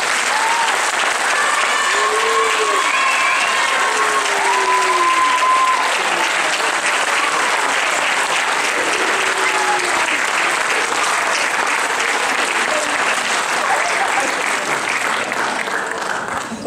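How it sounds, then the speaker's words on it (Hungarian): An audience at a children's folk dance group gathering gives the award-winning groups long, loud, sustained applause, with a voice speaking over the clapping at times. "és egy nagy tapsot a díjazottaknak."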